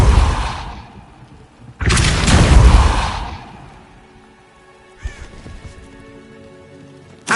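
The Depulso spell from Hogwarts Legacy on PlayStation 4 Pro bursts out as loud, rushing blasts: a short one, a longer roaring surge, then a sharper hit later, with a low rumble between.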